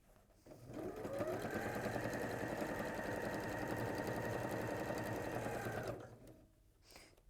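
A sewing machine stitches a seam straight down a fabric piece in one steady, continuous run of about five seconds, close and fairly loud, then stops abruptly.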